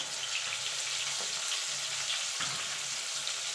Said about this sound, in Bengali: এবার আলুটাকে লাল লাল করে ভেজে নেব